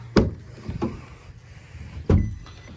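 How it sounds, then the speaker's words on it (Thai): Driver's door of a 2022 Isuzu X-Series pickup opening, with three sharp latch-and-hinge clunks spaced over a few seconds, close and fairly loud, no talking. "เดี๋ยวพี่เชิญเปิดประตูนั่งฝั่งคนขับได้เลยคร"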